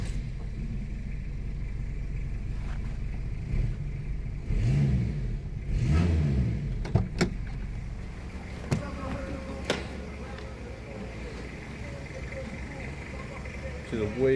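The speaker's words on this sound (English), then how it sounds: "I'll fire up and have a listen to that mighty 2C diesel." A Toyota Corolla's 2C diesel engine rumbles low and heavy, rising in a few revs before settling into a rough idle, heard near and loud.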